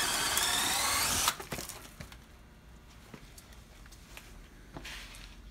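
A drill whines loudly as a spade bit bores into wood for about a second, then stops, followed by scattered creaks and light knocks.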